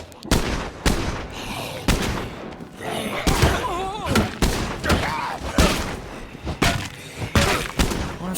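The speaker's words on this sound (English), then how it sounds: "Stop shooting my car, you dickhead." Repeated loud gunshot bursts and impact thuds strike a car in State of Decay 2, sharp and irregular in rhythm, with a voice talking over some of the shots.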